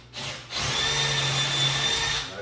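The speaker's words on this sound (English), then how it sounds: "I've probably drilled 1 trillion of these holes." A power drill bores through a wooden cabinet, one steady whirring burst of about two seconds, close and loud, with no talk.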